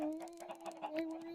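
A chicken in Minecraft lets out a few quick, soft clucks in a brief, quiet burst.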